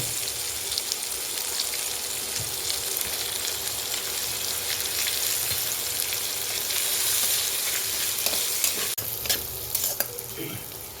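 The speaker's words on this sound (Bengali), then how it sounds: "আমি পেঁয়াজটাকে মিডিয়াম হিটে ভেজে নিচ্ছে যতক্ষণ না লাল হবে ততক্ষণ ভাজবো" Onions frying in oil over medium heat with a sprinkle of chilli powder, for a Bengali pabda fish curry: a steady, close, dense sizzle with occasional stirring scrapes, no talk.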